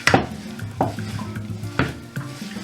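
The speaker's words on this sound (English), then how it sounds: "Use a wooden spoon to stir it well" Wooden spoon stirring coconut flakes through hot syrup for shredded coconut snack balls, close and loud, with a few sharp scrapes and knocks against the pan over a soft bubbling sizzle.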